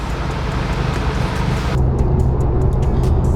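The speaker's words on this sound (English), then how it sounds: "I'm gonna go for a test drive." A BMW E30 out on a test drive, its engine and road noise a steady, loud rumble that shifts in tone partway through as the car rolls on.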